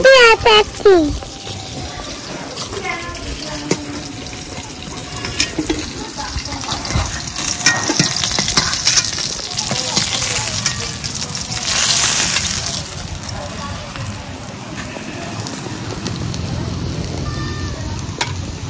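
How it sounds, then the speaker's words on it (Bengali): Shol fish fries in oil in a pan while a mango shol curry is being cooked, with a steady, loud sizzle and crackle under occasional clatter and stirring, and someone speaking nearby. "মাছ ভাজা হয়ে গেছে, এবার নামিয়ে নেব"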